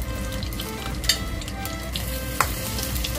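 Shrimp fry in a pan over medium-high heat, giving a continuous close sizzle with a couple of sharp crackles and pops, with no talking.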